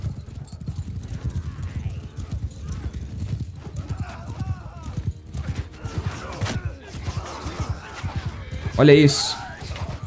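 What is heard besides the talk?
horses trampling enemies in Mount & Blade 2 Bannerlord video game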